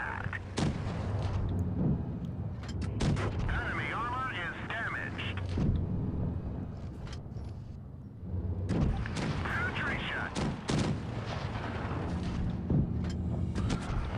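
Tank cannon fire in World of Tanks Blitz from a Valentine tier 4 British light tank, heavy booming shots every few seconds over engine rumble and battle noise, with a voice talking underneath.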